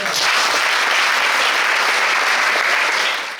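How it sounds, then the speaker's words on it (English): Teenage girls at a STEM camp in Ghana clap for themselves, a loud, close, continuous wash of applause from a group that holds steady for a few seconds and fades slightly at the end. "You want to clap for yourself."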